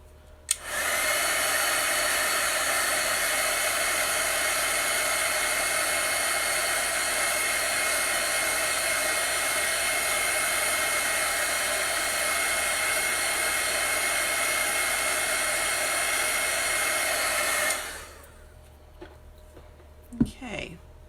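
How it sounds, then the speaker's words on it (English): A hair dryer blows steadily and loudly at close range while drying a decorative book-stack craft project. It runs unbroken for about seventeen seconds, then cuts off abruptly, leaving a few faint handling sounds. "I am going to dry it"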